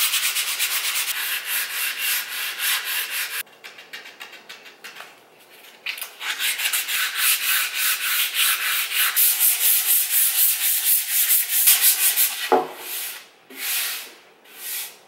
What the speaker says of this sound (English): I'm gonna sand it with some 240 grit sandpaper